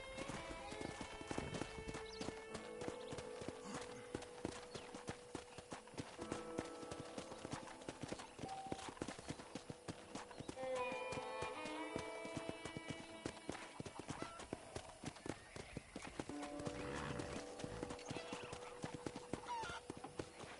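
A horse in the video game Red Dead Redemption trots with steady rhythmic hoof clip-clops and gives occasional whinnies, all faint over a continuous game soundtrack.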